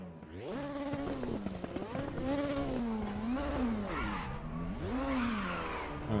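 A 2020 DTM race car's engine revs in the RaceRoom sim racing game at Aragon, a loud continuous howl that rises and falls in pitch as it accelerates and shifts, filling the whole stretch.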